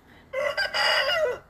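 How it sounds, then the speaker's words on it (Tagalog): A rooster crows loudly and close by in one long, wavering call, with chickens clucking faintly underneath. "Mga manok oh."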